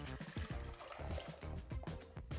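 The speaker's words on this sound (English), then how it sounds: "So we're going to pour this mixture back into our little pot here, little pan." Thick keto custard mixture poured back into a small pan, faint, soft glugging pours arriving in a string of short uneven bursts, quiet and close with no talking.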